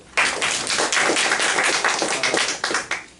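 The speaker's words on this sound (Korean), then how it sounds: "우리 박진태 변호사님께 박수 한번 더" Audience at an energy seminar clapping for a lawyer who spoke, a close, loud burst of rapid hand claps that holds steady for a few seconds before thinning out.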